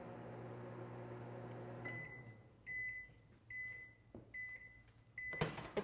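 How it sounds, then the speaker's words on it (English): A microwave oven melting chocolate chips hums steadily, then stops and gives a series of clear, evenly spaced electronic beeps, with a faint clunk near the end. "Now what we're going to do is put them in the microwave to melt them for about 30 seconds."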